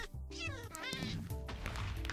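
A cat meows inside the Minecraft video game, a short rising-and-falling mew repeated in quick succession, loud and close over a steady game background.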